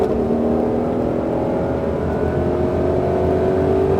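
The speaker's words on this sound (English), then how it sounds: "Roll into that throttle and let's go." A Mustang Shelby GT500 on a Las Vegas racing track, its engine roaring loud and close under throttle with a steadily rising pitch as it accelerates through the gear.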